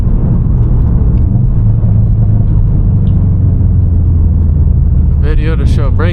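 A 2017 Subaru STI cruises gently during engine break-in, with a steady low engine rumble and road noise heard from inside the cabin, and someone talks over it near the end.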